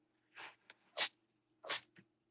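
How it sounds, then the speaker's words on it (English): A child sneezes twice in quick succession near the mic, sharp bursts following a softer intake of breath, with a small catch between them in an otherwise quiet room. "Now he's sneezing."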